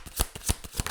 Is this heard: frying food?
no